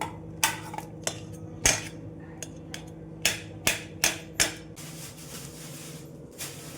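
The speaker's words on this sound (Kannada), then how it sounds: "ಫೋರ್ಕ್ ತಗೊಂಡು ಈ ಥರ ಸ್ಮ್ಯಾಶ್ ಮಾಡ್ಕೊತಾ ಇದ್ದೀನಿ" A fork mashing banana in a bowl for a simple dessert: about ten sharp metallic taps and clinks at irregular intervals, close and crisp against a quiet room.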